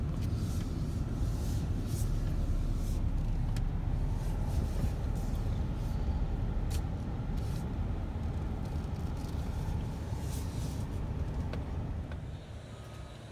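A car rolls slowly up a hill into a circular residential driveway at the corner of a street, giving a steady, close engine and road rumble that eases off near the end, with no talking.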